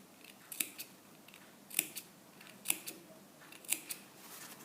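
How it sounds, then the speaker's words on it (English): Quiet, crisp snips of scissors clipping a fabric seam allowance come in small pairs at a loose rhythm, about eight cuts in all, close by with no talking. "I'm going to clip into the seam allowance, which is also called notching."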